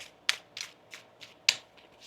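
Tarot cards are shuffled by hand, a quiet series of crisp riffling bursts at an uneven rhythm, with two sharper snaps standing out among softer ones, with no talking.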